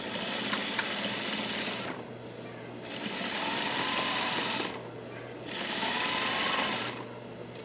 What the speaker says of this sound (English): I'm going to do my edge stitch